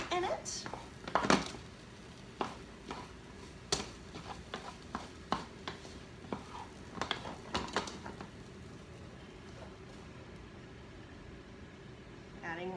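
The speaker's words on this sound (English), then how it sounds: "Fluffing up my rice with that cooked egg in it." Cooked rice with egg mixed in is fluffed up in a pan, giving soft scattered scrapes and light clinks of a utensil against the pan, quiet and close, with a few sharper taps.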